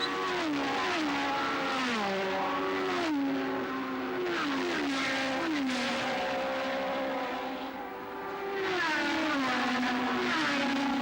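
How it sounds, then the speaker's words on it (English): Lotus 49 and Ferrari race cars from the 1969 Tasman Series racing in Australia, their engines screaming loud and close, rising and falling through repeated gear changes and passing by continuously. "Amon and Rindt continue their terrific scrap and are already beginning to lap the tail enders"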